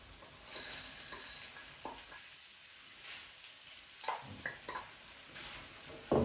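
Frozen peas tipped into a hot frying pan while making a shepherd's pie: a soft steady sizzle with a few scraping stirs and light clicks from the pan, quiet and close.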